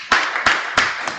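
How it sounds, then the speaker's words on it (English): A few people clapping briefly during an engineering class webinar, three or four distinct bursts of claps in quick succession, close and fairly loud. "Give her a clap."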